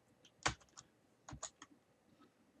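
Typing on a computer keyboard while entering a spreadsheet formula, a few faint, close key clicks in two short bursts over a quiet background.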